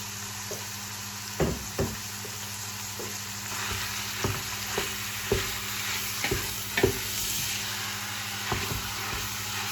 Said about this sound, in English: you're going to need to brown all your mince off